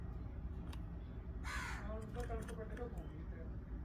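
A crow-like bird perched on a phone in a Punjab village home gives a few harsh caws midway, up close over a low background rumble, with people talking nearby.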